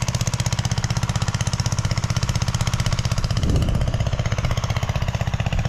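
Close and loud, a small engine drives a water pump at a fishpond being drained, chugging in a fast, regular pulsing rhythm that thickens briefly midway through.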